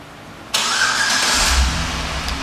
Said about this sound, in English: One of the many features in this vehicle is a remote start, and let me show you how that works.